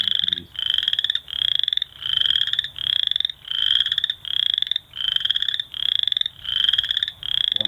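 A recorded frog call played at a FrogWatch training session: loud, steady trills repeat in regular pulses about every second, alone with no voices.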